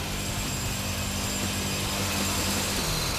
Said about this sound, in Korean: 기계 송곳을 이용해서 바닥을 뚫는다.